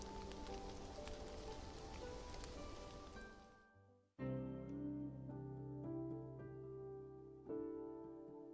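Rain in the game Love and Deepspace falls steadily as a dense hiss of drops on surfaces, cutting out abruptly around four seconds before a musical tone and sustained score take over, with no talk.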